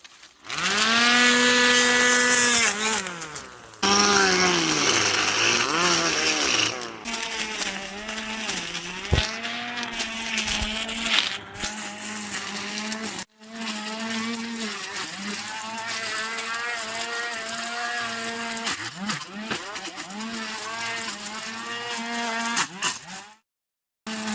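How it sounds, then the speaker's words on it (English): Motorized grass trimmer fitted with blades, engine whining and rising and falling in pitch as it cuts through vegetation, loud and close for most of the time with brief pauses, no talking. "I'm very impressed how those blades actually are handling everything"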